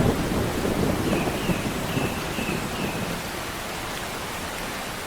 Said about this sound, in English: After months of drought, the rain the entire savannah has been waiting for has finally arrived.